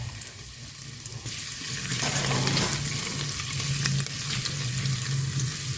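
Chopped garlic and ginger sautéing in ghee in a pan: a loud, steady sizzle with stirring scrapes that swells slightly partway through, no voices.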